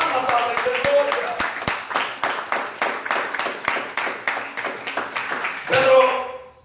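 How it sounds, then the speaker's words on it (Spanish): A church congregation claps together in rhythmic, fairly even bursts, loud and close, sustained for several seconds before tapering off abruptly near the end. "Dale fuertes palmas a la iglesia."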